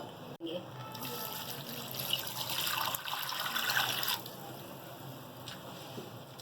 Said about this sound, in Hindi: और अब हम पानी डालेंगे।